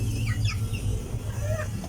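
Farm chickens cluck and squawk in short, close bursts over a low steady background hum, with no talking.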